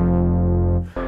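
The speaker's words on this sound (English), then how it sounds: "one bass sound that I'm just going to load inside this menu here. It's called a Moog type bass." A Moog-type synth bass preset in Ableton Live sounds a loud, sustained, buzzy low tone that cuts off briefly and then comes back, with no voices.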